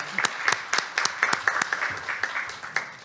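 Modest audience applause at a Korean precision medicine symposium after a lecture, a thin patter of claps that stays fairly steady and then fades slightly.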